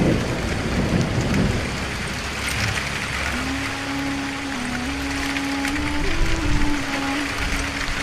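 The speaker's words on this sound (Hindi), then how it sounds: "बाहर यह बारिश कुछ ज्यादा ही तेज हो गई है।" Steady heavy rain pours down continuously, a dense wash of drops with a low rumble of thunder, and a faint tonal hum drifts through the middle.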